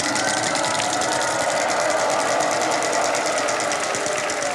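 A prize wheel spun by a contestant on an Akshay Kumar Hindi game show ticks in a rapid, steady rattle of clicking pegs, loud and continuous throughout, with no talk over it.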